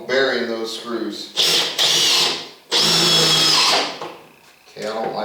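Power drill driving screws into a wooden reloading bench, several loud whirring bursts with short pauses between them, close by, with a voice speaking during the gaps.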